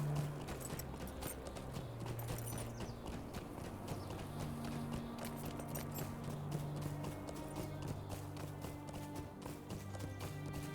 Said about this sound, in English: So, mount up on my horse, and let's see what we can find out.